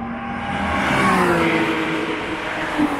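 Toyota GT86 Cup race car on a racetrack, its engine roaring up close as it passes by with a brief rising and falling whoosh, loud and alone without talk.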